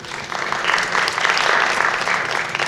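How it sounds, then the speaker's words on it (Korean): An audience applauds at a student research presentation in a natural-sciences academy, a dense, loud burst of clapping that swells and holds steady for the whole stretch. "다시 한번 큰 박수 부탁드립니다."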